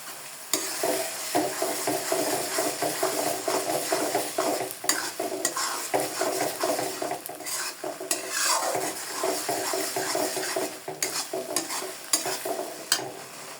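Chili pickle made with Bombay chilies, mango puree and mustard paste sizzles steadily in a pan while a utensil stirs and scrapes through it, close and continuous, with no talk.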